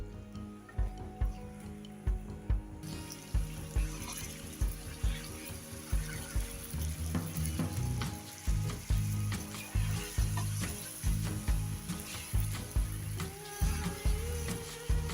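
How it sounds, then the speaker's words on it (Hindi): Chicken fries in a pan with a continuous close sizzle, punctuated by steady rhythmic clacks of stirring throughout. "अब हम इसको तब तक फ्राई करेंगे जब तक इसका कलर चेंज नहीं हो जाता और इसकी स्मेल नहीं चली जाती।"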